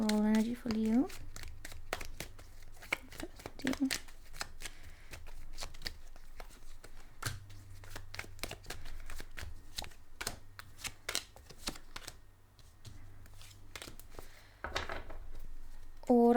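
A tarot deck is shuffled by hand in rapid, crisp riffling clicks that run continuously and close up, with a brief voice at the start.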